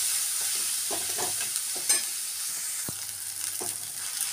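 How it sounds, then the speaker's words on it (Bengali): A spice masala with turmeric, chilli powder and salt fries in a pan for a fish curry. It hisses steadily while a spoon gives a few scraping stirs, and no one speaks. "তারপর সমস্ত মশলাটা খুব ভালো করে কষিয়ে নেব।"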